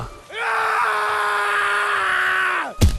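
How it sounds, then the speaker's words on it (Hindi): A man lets out a loud, sustained scream of terror lasting over two seconds in a Hindi horror story, rising sharply, holding steady, then cutting off abruptly before a short thud. "वो जोर से चीखा"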